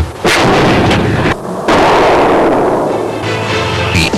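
Bursts of heavy gunfire from an MG4 7.62x51mm belt-fed mounted machine gun, loud and close, with sharp reports separated by brief pauses and a sustained burst, no talking.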